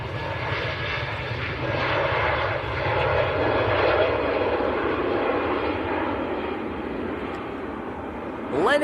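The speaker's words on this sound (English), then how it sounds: "Okay, Turkish just about to roll" Turkish Airlines A321neo bound for Istanbul taking off at Manchester Airport, a steady broad engine roar that swells and holds, heard from a distance outdoors.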